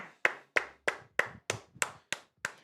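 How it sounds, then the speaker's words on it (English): Eight crisp, evenly spaced claps from a single nearby pair of hands sound alone during a live-streamed NFL Bears versus Vikings broadcast. "Let's get a round of applause to Jerry in the chat."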